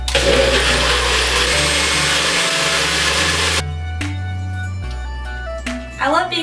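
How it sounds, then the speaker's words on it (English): Blender whirring through vegan Caesar dressing, a loud steady motor drone with shifting pitch that changes character partway, then winds down with some clatter at the end. "All you have to do now is blend it up."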